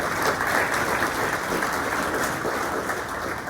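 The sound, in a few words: audience applause for first-time attendees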